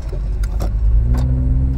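A car, heard from inside or close by as the engine idles with a low steady rumble, with a few brief clicks and knocks over the top and no talking.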